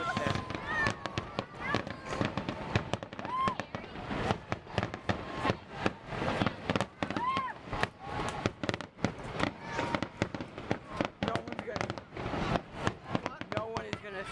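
A Fourth of July fireworks grand finale bursts in a rapid, continuous barrage of booms and crackles at a moderate distance, with voices faintly audible underneath.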